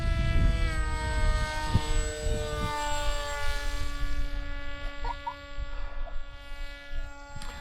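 Foam board Vulcan RC plane flying at around half throttle, its electric motor giving a steady high-pitched buzzing whine with clear tonal harmonics that shift slightly in pitch as it passes, moderately close, with faint outdoor background.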